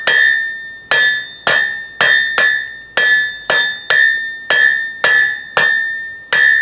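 A blacksmith hammers hot metal stock on an anvil while fullering and tapering, striking a dozen loud, ringing blows at a steady rhythm, each leaving a bright metallic ring that fades before the next.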